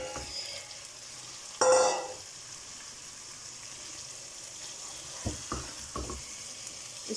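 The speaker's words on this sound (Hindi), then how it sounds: "इसको हमने अच्छी तरह फ्राई करना है" Chicken frying in a karahi, a faint low sizzle in the background with one loud hissing burst early on and a few soft clinks of stirring later.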